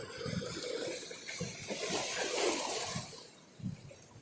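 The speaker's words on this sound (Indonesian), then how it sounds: "kecuali suara ombak dan deru angin." Sea waves and wind at a quiet beach produce a soft rushing wash that swells and recedes, building to a fuller surge midway before easing, heard at low level without speech.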